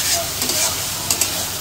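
Water lily stems frying with mustard paste and dried chilies in a pan, sizzling steadily while being stirred, with a few scraping clicks of the utensil close by.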